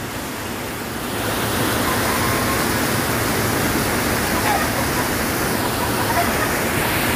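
Strong waterfall roar, a dense and steady rush of falling water close by that swells after the first second and stays loud and unbroken.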